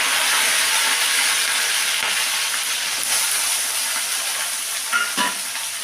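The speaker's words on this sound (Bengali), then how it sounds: "আমি এখানে কিন্তু সর্ষের তেল নিয়েছি। এইবারে এখানে আমি এই পেঁয়াজ, শুকনো লঙ্কা আর কাঁচা লঙ্কাগুলোকে দিয়ে দিলাম" Onion with dry and green chillies sizzles loudly in hot mustard oil, a dense, steady frying hiss close up that carries through the whole stretch, with a brief utensil scrape near the end.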